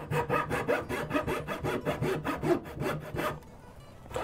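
A hand saw cuts through wood in steady, even back-and-forth strokes, about three per second, before stopping abruptly.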